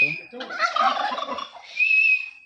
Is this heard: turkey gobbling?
yes